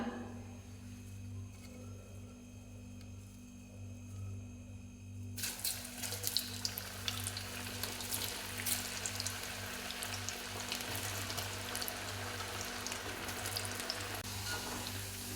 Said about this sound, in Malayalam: വറുത്ത് കോരിയെടുക്കാം